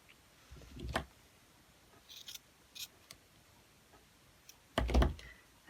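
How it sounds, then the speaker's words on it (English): Scissors cut paper tabs for a journal in a quiet room, with two distinct close snips and a few lighter clicks and rustles of paper between them. "So I'm just going to use my ruler and roughly cut the first tab"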